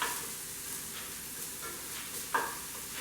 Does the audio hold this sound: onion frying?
yes